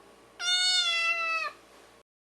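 A cat lets out a single drawn-out, tonal meow, close and clear over a faint background hiss.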